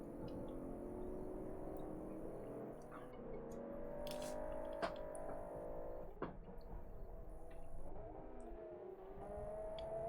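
Racing cars in a budget car cup race in a racing video game sweep through a curve, with engine tones rising and falling as they accelerate, a steady droning whine at moderate volume.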